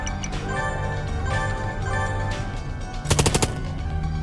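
A short burst of rapid game gunfire from Long Gone Days, aimed at an aircraft wing, rattles out near the end, loud and sharp over a steady musical and ambient game backdrop.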